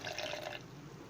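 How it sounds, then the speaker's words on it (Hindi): Water poured into a grinder jar holding ginger and garlic, a short splashy pour lasting about half a second before fading to quiet. "फिर इसमें पानी ऐड करेंगे"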